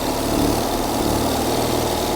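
Autobianchi car engine running steadily, a loud, close, continuous idle-like drone with no break.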